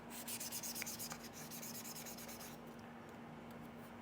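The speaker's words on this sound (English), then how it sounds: "So let's give that a little rub" Close, steady rubbing strokes in a quick back-and-forth rhythm, like cloth or abrasive polishing a CZ P-09c pistol part, with a low hum underneath.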